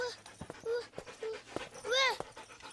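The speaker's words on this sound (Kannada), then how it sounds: "ಮನ್ಯಾಗ ಯಾಕ ನಾಯಿ ಹೋಗ್ಸಿರಿ?" A dog indoors in a house gives several short whining, yelping cries in bursts, mixed with panting and close human voices talking over it.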